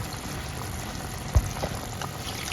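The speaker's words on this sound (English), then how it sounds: "turkey stock can have a lot of bones in it, so I'll go ahead and strain it" Turkey stock being poured through a strainer, a steady close liquid trickle and splash with a single heavier knock partway through, moderately loud and without talk.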